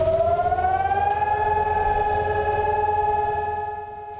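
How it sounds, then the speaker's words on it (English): A civil defense siren wails across Israel on Holocaust Remembrance Day, one loud, sustained rising-then-level tone with harmonics that holds steady and begins to fade at the end, no voices. "Sirens blared for 2 minutes as cars stopped in the streets and people bowed their heads"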